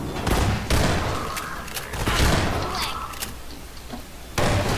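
Heavy shotgun blasts from Half-Life 2 in a co-op session, several loud booming shots with clattering impacts spread across the stretch, with faint voices underneath.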